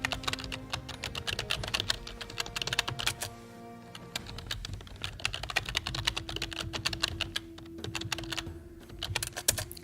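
Someone types on a computer keyboard at close range in rapid bursts of clicky keystrokes, with a brief pause in the middle and a faint hum underneath.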